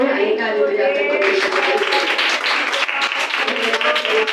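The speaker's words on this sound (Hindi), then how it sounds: "आइए ताली बजाकर" A congregation at a Sunday worship service claps together in a steady, dense rhythm. Voices sound throughout, with singing or talking over the clapping.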